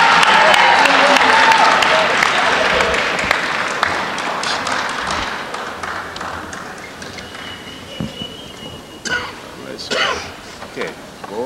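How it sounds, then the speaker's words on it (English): An audience at a live-streamed recognition event applauds loudly as coaches come onto the stage. The clapping is strongest at the start and fades over several seconds, with scattered claps and a voice speaking near the end. "Give them a great big round of applause as they come."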